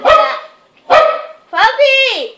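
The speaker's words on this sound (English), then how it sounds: "Puppy!" A puppy gives three short, high barks in quick succession, close and loud, the last one drawn out into a rising and falling yelp.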